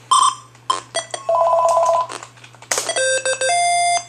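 A telephone ringing from an unfamiliar number in the DOS game Jeopardy! Junior Edition, heard as loud, bright electronic ring bursts and warbling tones, some stuttering and some held, with no talking.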